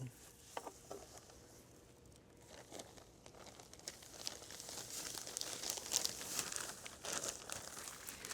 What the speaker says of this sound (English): place it in a heavy-duty resealable plastic bag